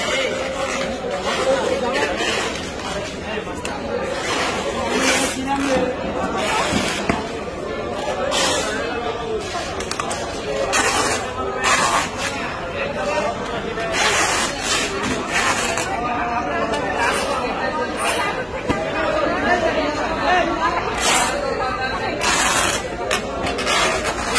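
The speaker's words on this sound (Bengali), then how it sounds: "অসংখ্য গ্রাহক আসছেন বাজারে, তারা কেনাকাটা করছেন পছন্দ অনুযায়ী।" A busy fish market where hilsa is sold fills with a continuous babble of many shoppers talking at once. Nearby voices rise and fall over the steady crowd murmur throughout.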